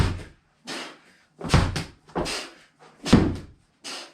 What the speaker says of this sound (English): grab your med ball, hammer slams, alternating, 20 reps